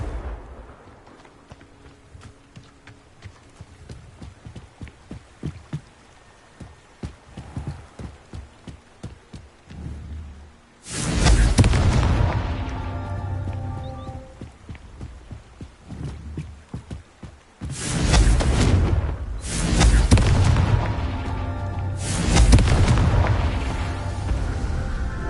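Confringo spell blasts in Hogwarts Legacy: three heavy, booming explosions in close succession, each a loud broadband burst with a rumbling tail, preceded by quieter clattering footsteps and game ambience.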